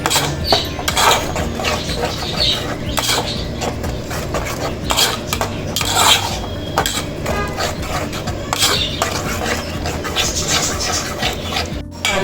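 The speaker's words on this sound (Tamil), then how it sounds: "அடி பிடிக்காம இந்த மாதிரி நல்லா கிண்டி" Egg podimas being stirred in a pan: continuous scraping and clinking of a spoon against metal, with rhythmic strokes and a soft sizzle underneath.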